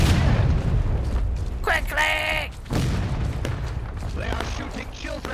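Heavy booms in the Civil War video game War of Rights, thudding and rumbling near and far, with a shout and other voices over the blasts.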